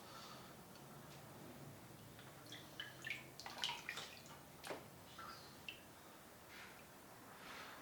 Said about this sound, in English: I'm just gonna dip them in the water and see how the ink holds up